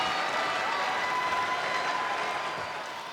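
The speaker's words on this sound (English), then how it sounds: "now we see a smattering of fans. Look at this. Cheer for Jon Moxley" Wrestling fans at AEW Worlds End 2025 cheering and clapping for Jon Moxley, a dense wash of crowd noise and applause that holds steady for a few seconds, then eases slightly.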